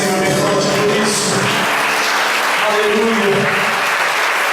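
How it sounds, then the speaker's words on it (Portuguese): Church congregation clapping loudly during a family worship service, dense continuous applause filling the room with voices mixed in underneath. "Aplauda o Senhor bem forte por isso."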